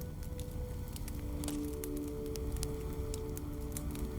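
Crackling fire in an evening fireside setting, with a continuous low rushing roar and frequent small sharp pops and snaps spread throughout, no voice present.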